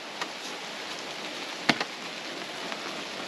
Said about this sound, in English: And then it rains.